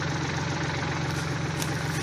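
Massey Ferguson 1433 4x4 compact tractor diesel engine running steadily while skidding a log wedged among trees, a close, loud, constant low rumble with no change in pace.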